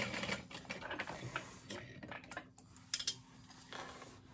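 A sewing machine runs top stitching along a handbag seam, giving a steady mechanical whir with a low constant hum and small clicking ticks, close and moderately loud, with no speech.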